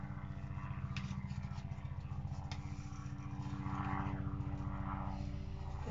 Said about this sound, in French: on entend l'hélico qui passe au-dessus de la maison